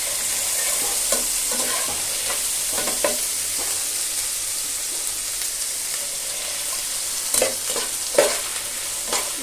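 Onions frying in a pan with ginger garlic paste, stirred constantly, giving a steady hiss and sizzle with soft scraping strokes and a few louder clacks near the end.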